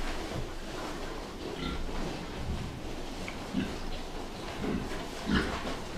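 Pigs grunt on a livestock farm among sows and piglets, several short low grunts scattered through a steady noisy background, with indistinct voices faintly present.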